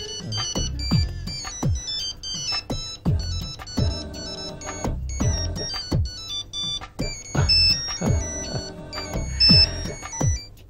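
A phone ringtone plays a bright, repeating electronic melody of quick plucked notes, loud and steady for about ten seconds, with no talking.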